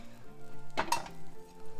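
Crepes sizzle softly in butter in two IKEA crepe pans, with a steady low frying hiss. About midway a single sharp clink of a utensil against a pan stands out. The sound is close and no one talks.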